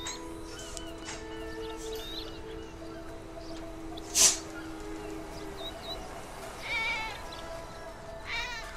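A cat meows a few times inside the GTA V video game, short, faint calls over a steady hum of game ambience, with no speech.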